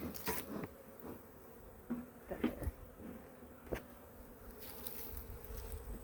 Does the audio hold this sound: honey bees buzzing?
yes